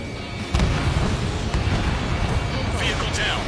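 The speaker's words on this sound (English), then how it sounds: "Missile launched." A missile fired in a combat flight video game, a sudden launch whoosh giving way to a sustained, rumbling roar and blast over a constant engine drone, with brief radio-style voice callouts.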